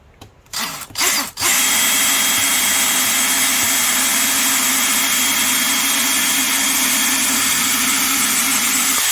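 A power drill boring a hole in Daiso rubber wood for a fishing reel stand, with a few brief revving bursts, then a loud continuous whine that holds steady to the end.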